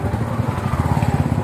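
A motorcycle engine idles close by, its steady rapid thumping pulses running without a break and with no other sounds over it.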